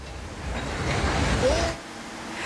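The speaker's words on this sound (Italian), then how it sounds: "Un vero e proprio fiume di fango e detriti provocati dalle violente piogge" Torrent of mud and debris surging after violent rain, a steady broad rushing roar that swells in the middle and then drops to a lower wash, with no voices.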